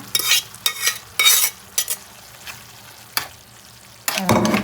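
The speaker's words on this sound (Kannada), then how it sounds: "ಚೆನ್ನಾಗಿ ಮಿಕ್ಸ್ ಮಾಡಿ ಫುಲ್ ಈ ಥರ ಸಣ್ಣ ಆಗಬೇಕು." A spoon stirs and mashes boiled pav bhaji vegetables in a sizzling pan, giving several close bursts of scraping and squelching separated by pauses, ending in steady frying, with no talk.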